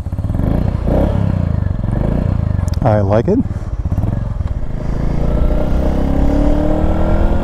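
A Royal Enfield Meteor 350 with an AEW exhaust pipe rumbles in a steady, throbbing idle-to-cruise burble while riding, loud and close, with a brief rising rev partway through and someone talking over it.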